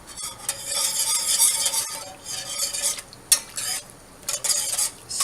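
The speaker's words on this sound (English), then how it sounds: "Stir that around." Cream stirred into mushroom soup in a pot, spoon scraping and clinking against the metal in bursts over a soft background sizzle, close and without talk.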